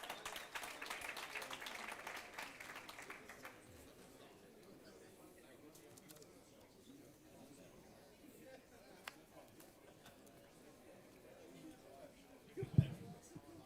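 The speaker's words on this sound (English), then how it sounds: "Give him a big round of applause" Audience applause for a contestant at a national auction championship event, a burst of clapping from a crowd for about three seconds that fades into quiet room murmur, followed by a brief bump of noise near the end.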